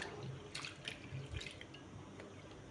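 Lentils being washed under running water in a kitchen sink, a steady soft rush of the tap with a few brief splashes and drips, close and fairly quiet, with no talking.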